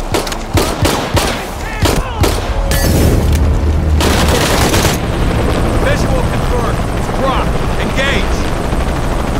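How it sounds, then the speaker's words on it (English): In the video game Shadow of the Tomb Raider, a helicopter's rotor thrums steadily amid sharp bursts of gunfire and booming impacts, with shouted voices mixed into the chaotic combat din. "Always hated helicopters."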